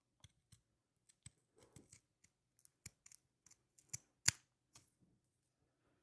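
Zigzag pinking shears snip around the edges of a dark green pickle-slice piece for a needlebook, giving quiet, close, crisp cuts spaced irregularly with short pauses between them and no talking.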